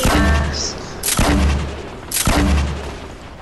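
Three heavy, booming blasts of a grenade explosion in a video game, each a sharp loud burst roughly a second apart, with a low rumbling tail behind each one.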